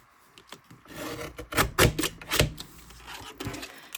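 A card for collage tags is cut down with a series of rasping, scraping strokes, loud and close, in uneven bursts that swell in the middle and taper off.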